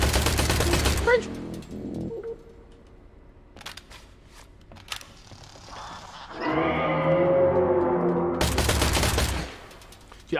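Gunfire in the sci-fi shooter Industria: a loud burst of shots at the start and again near the end, with scattered sharp cracks and a whirring mechanical stretch between, under occasional voices.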